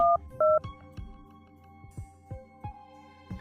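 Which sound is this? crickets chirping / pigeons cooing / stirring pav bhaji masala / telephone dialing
telephone dialing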